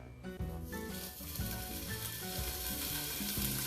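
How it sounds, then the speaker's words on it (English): Bacon being added to a preheated pan sizzles loudly and continuously, a dense crackling fry that stays close and steady throughout. "I got my pan all preheated. Let's start adding the bacon."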